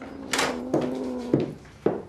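A door opens in an office with a sequence of sharp clicks and knocks, a latch and handle rattling, then a steady faint hum between the thuds, close and distinct.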